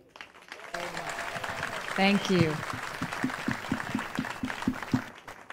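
An audience applauds a speaker at an event in Israel, a sustained round of clapping with a brief spoken thanks over it before it fades.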